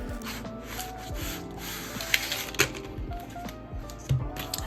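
A Kindle 2022 e-reader being unwrapped: soft rubbing and rustling of paper packaging up close, with a few sharper tearing and tapping sounds scattered throughout and no voices.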